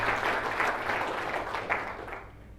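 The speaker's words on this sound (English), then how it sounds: "give Mr. Stephen McMahon a round of applause for holding this event" An audience applauds at a motivational business event, a dense, steady wash of clapping that fills the short moment and slowly tapers toward the end.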